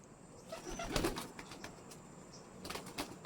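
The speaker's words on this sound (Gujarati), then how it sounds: "બધા કબૂતર છે કેટલા બધા છે જો" Soft pigeon coos and a few bursts of flapping wings, fairly faint and scattered over a quiet background.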